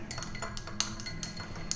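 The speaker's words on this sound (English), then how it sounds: "Give it a bit of a stir." A cocktail stirred with Pritchard's Bitters over a large ice cube in a glass, with a series of light, irregular clinks and taps of spoon against ice and glass, close and quiet.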